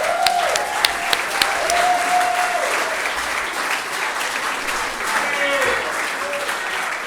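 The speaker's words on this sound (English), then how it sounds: "Let's give him a round of applause." A crowd applauds steadily for a club member at a football club's season awards night, the clapping sustained throughout with a few brief voices and whoops rising over it.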